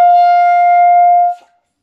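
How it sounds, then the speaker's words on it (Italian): A clarinet barrel and mouthpiece played on their own sustain a single loud, steady high G with a bright, reedy tone for over a second before it stops abruptly. "Ed è il suono del barilotto col bocchino."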